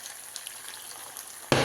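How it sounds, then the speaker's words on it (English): Soft steady sizzle of meat frying in a pan, fairly quiet, ending with a sudden louder burst of crackling. "I just let it fry"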